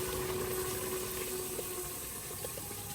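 Water from a bottle pours steadily into a cooking pot during home preparation of a large batch of niyaz food, a continuous close gush with no talk over it.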